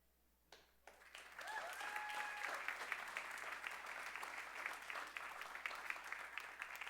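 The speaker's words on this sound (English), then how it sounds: "And for those of you right now clapping" An award-show audience at the Biltmore Theatre breaks into applause after a brief quiet moment. The clapping swells quickly and carries on steadily, heard from a distance and fairly faint.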